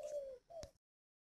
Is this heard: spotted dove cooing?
yes